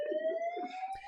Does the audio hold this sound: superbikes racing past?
no